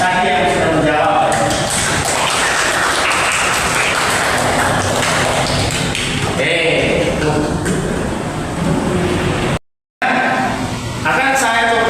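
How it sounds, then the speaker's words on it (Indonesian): Classroom applause for students who answered, a loud, dense burst of clapping filling the room nearly throughout, with a short gap near the end before it resumes; voices and chatter mix in. "Beri tepuk tangan untuk tadi yang sudah menjawab."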